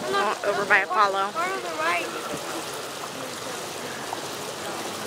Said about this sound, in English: you can see water cannons that'll shoot off every now and then